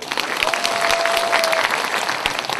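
An audience at a small outdoor community concert in Ulsan applauds the district chief, with sustained, fairly loud clapping from many people. A single steady tone rings briefly through the middle of it.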